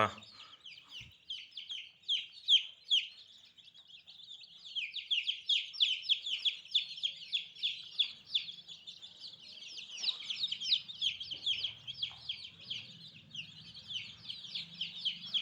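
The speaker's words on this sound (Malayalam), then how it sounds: "ഇതൊക്കെ ഒരാഴ്ചയായിട്ടുള്ള കോഴിക്കുഞ്ഞുങ്ങളാണ്" Many week-old country chicks cheeping in a dense, continuous chorus of high, rapid peeps, close by and fairly soft, with a faint low murmur underneath.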